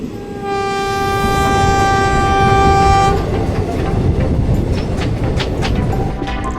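Karaikal Express passenger train rolling on its rails at night, a loud steady rumble with rhythmic wheel clatter and a sustained horn tone in the first half, no talk.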